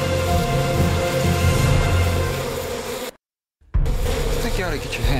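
Insect-like buzzing, a loud, steady, close drone, fills the clip, breaks off briefly in a moment of silence, then resumes just as strongly.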